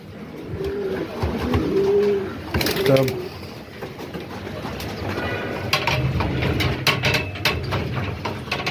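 Pigeons in a loft coo close by in soft, repeated throaty calls, mixed with shuffling and faint background noise while someone talks.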